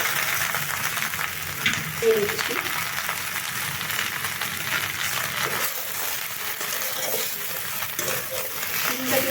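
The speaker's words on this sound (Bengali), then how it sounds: "আমি একসঙ্গে ঢ্যাঁড়সটা ও পেঁয়াজগুলোকে ভেজে নেব" Okra and onions frying together in a pan, a continuous sizzle with repeated scraping and clinking of a spatula stirring the vegetables throughout.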